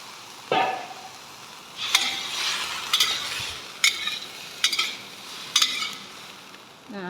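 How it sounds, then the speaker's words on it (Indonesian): Vegetables are sautéed with water in a pan, likely including broccoli, giving a soft continuous sizzle broken by about six sharp clinks and scrapes of stirring, close by with no talk. "nah itu kita tumis dia dulu ya. Dan jangan lupa dikasih air"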